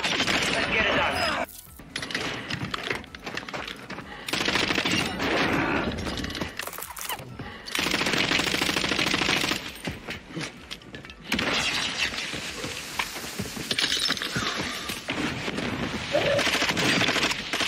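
RAPP H light machine gun fire in Warzone 2 roars in long, dense bursts, loud and close, broken by short pauses, with chaotic combat clatter and shattering around it.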